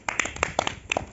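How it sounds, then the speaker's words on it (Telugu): A few people clap their hands at the end of a children's story told during a power cut, giving a short burst of close, uneven claps. "చప్పట్లు కొట్టండి"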